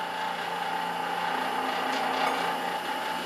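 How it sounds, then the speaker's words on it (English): Loose items rattle together on a running Lockerbie kickwheel, a steady close mechanical chatter with a low motor hum beneath, continuous and moderately loud with no talking. "That sound is actually all of the stuff rattling together."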